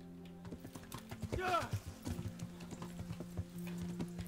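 Horse hooves clop at a steady rhythm while riding in the medieval role-playing game Kingdom Come: Deliverance, joined briefly by a whinny, with someone talking over them at moderate volume.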